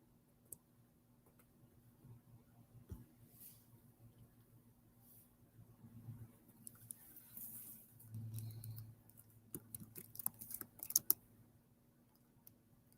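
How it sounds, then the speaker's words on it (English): Soft, irregular keyboard typing with scattered clicks over a low steady hum, growing busier toward the end; quiet and close. "You might hear me typing for a minute."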